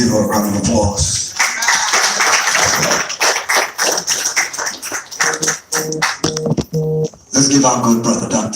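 Audience applause at a speaking event, with a dense patter of clapping under voices and mixed stage sound, steady for most of the stretch and then breaking into choppier bursts near the end.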